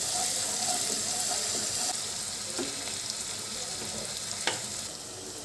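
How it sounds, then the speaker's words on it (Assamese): Ginger garlic paste sizzles in oil in a cooking pan, a steady, close hiss of frying with occasional faint stirring clicks and no talk. "আদা নহৰু গোন্ধটো নোযোৱালৈকে ধুনীয়াকৈ ফ্ৰাই কৰি ল'ব লাগিব।"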